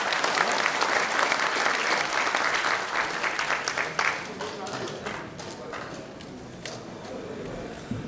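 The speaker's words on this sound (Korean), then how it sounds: "우리 박수로 함께 모시겠습니다." Warm audience applause welcomes a speaker at a Korean public gathering, dense clapping from a crowd that stays strong throughout and thins slightly toward the end.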